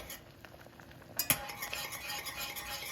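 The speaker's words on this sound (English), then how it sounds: "And just keep stirring it." Polenta being stirred in a pot on the stove, with close scraping of a utensil against the pot, a couple of sharper clinks and a soft bubbling sizzle underneath.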